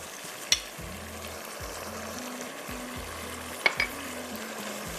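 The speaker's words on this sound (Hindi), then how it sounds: "अब इसमें जा रही है ये फ़िश को लाजमी आपको डबल फ्राई करना है।" Pieces of fish are double-fried in hot oil for Schezwan sticky fish, a loud close bubbling sizzle throughout with two sharp clinks of utensils against the pan and no talking.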